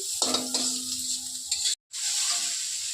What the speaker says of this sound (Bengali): কড়ার উপর দিয়ে মশলাটা সুন্দর করে নাড়ি চাড়ি একটু ভেজে নিই